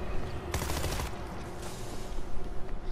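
Auto turret in World War Z loosing a short rapid burst of gunfire, about half a second of sharp shots fairly close, with scattered faint pops and background game noise around it.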